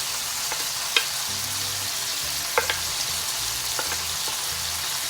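Onion sizzling and being stirred in a hot pan with instant noodles, chicken and prawn, a steady fry hiss broken by a few sharp utensil scrapes and clicks, close and moderately loud.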